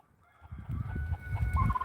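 Farmyard chickens cluck in short, close bursts while a rooster crows in the background, the calls growing louder and more insistent over a couple of seconds with no talking.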